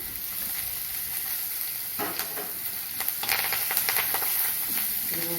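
Onion and curry leaves drop into hot oil for a Tamil turkey berry masala, setting off a steady, close sizzle with brief crackling bursts and a few utensil clinks, and no talking.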